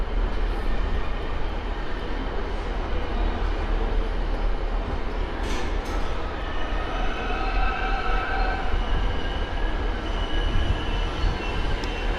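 A train rumbles steadily alongside a platform at Sheffield station, with a constant low roar and faint metallic squeals, no talking.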